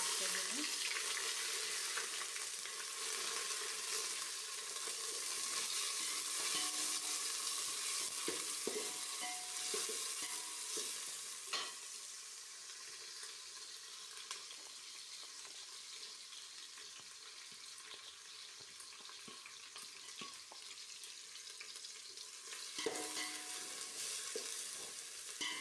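Onions frying in a pan for vegetable biryani, with a continuous hiss of sizzling oil and occasional scraping clicks of a stirring spoon, the sizzle fading slightly partway through before a sharper stir.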